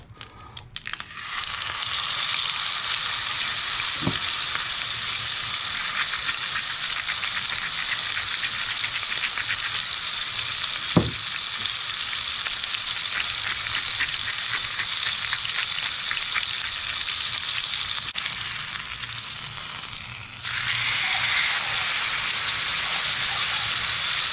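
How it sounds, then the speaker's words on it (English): A piece of steak sears in a hot pan while being browned for beef Wellington, a loud, dense, continuous sizzle lasting the whole stretch with a couple of brief clicks and a slight dip near the end, no voices. "I'm just going to sear this piece of steak and then I'm going to take it off."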